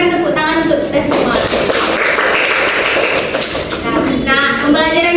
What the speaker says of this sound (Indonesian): Berikan tepuk tangan untuk kita semua.